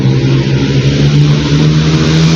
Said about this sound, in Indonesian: Iklan motor.